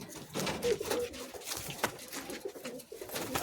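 Madrasi pigeons, a short-sized pair, coo softly at close range amid scattered rustling and shuffling noises, with low murmured cooing running through.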